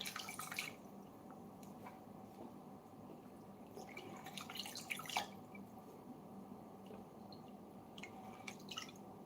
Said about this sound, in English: So I'm going to remove the excess water using this strainer.